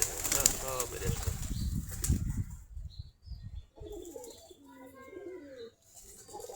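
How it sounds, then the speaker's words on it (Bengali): Desi Giribaj pigeons flap their wings in a loud burst, then coo softly and repeatedly at close range, with faint chirps in the background. "সবগুলা দেশি গিরিবাজ কবুতর।"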